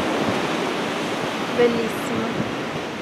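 Sea waves wash onto a beach on a November afternoon, a broad continuous rushing roar heard from nearby, with a single short spoken word over it.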